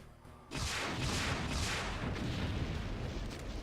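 Rocket launcher fire in a first-person shooter video game: a sudden loud blast kicks in after a brief quiet, followed by a dense rumbling barrage of booming explosions that continue to the end.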